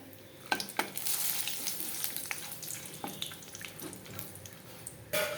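Whole spices, dried red chillies and chopped bay leaf fry in hot oil for a goat curry, a soft, quiet sizzle broken by a few sharp clicks and scrapes of a spoon against the pan.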